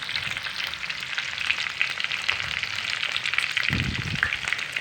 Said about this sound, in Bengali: তো আমি এখন এই পেঁয়াজগুলিকে ভালো করে ফ্রাই করতে থাকবো মিনিমাম পাঁচ মিনিটের মতো